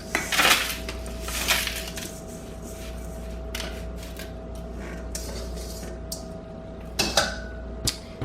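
Peanut butter mixture for peanut butter squares dropped into a pan, a few clattering knocks and scrapes of utensil on pan at the start and again near the end over a steady background hum.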